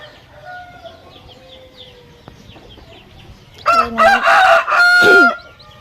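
Quiet clucking from a few chickens, then a loud nearby rooster crowing twice in quick succession.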